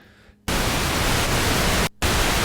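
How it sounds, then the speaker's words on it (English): Loud, steady hiss of pink noise from a Moog Minimoog synthesizer switching on abruptly, cutting out briefly, then resuming, a dense rushing tone. "You have the option of both pink noise, this sort of darker noise."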